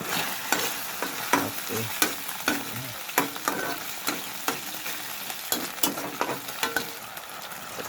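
Sardines sautéing in a frying pan, a steady close sizzle broken by repeated sharp scrapes and clacks of stirring, with one brief spoken word.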